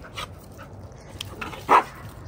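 Two small dogs, one a five-month-old puppy, at a park. A few soft, scattered whimpers are followed by one sharp, loud bark near the end, all close by with no talk.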